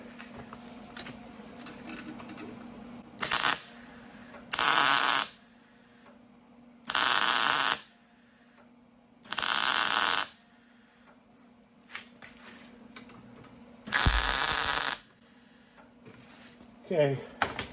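Several short bursts of tack welding on a patch in the floor pan of a 1972 VW Super Beetle, each a harsh crackling buzz lasting about a second, close and loud, separated by quieter pauses with a low hum.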